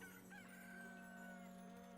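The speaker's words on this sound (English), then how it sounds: "Cock-a-doodle-doo." A rooster crows in the video game Neverwinter Nights, one drawn-out cock-a-doodle-doo held over a steady ambient game hum, fairly soft and with no talking over it.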